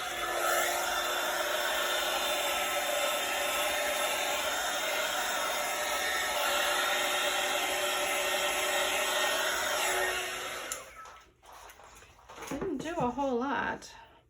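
A heat tool blows steadily on poured acrylic paint with silicone fluid, a loud continuous whirring rush for about ten seconds. It then cuts off, and a voice speaks.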